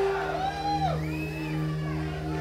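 A crowd at a concert whooping and yelling, rising howls and cheers over a steady hum, with a voice heard among them.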